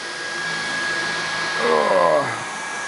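A Dyson V11 cordless vacuum cleaner runs in boost mode on a hardwood floor, giving a steady, close, high-pitched whir. Its tone shifts and swells briefly as the head suctions down against the floor.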